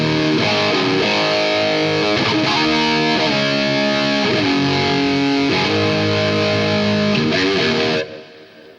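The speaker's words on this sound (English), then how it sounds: "If I go to channel mode dual mono, what that does is it takes both the Marshall sound and the 5150 and it'll mono it, so you get both amp sounds." Electric guitar runs through a Boss GT-8 processor, with Marshall and 5150 amp models blended in dual mono. Heavily distorted chords and riffs play loud and close, then end on a ringing chord that cuts off.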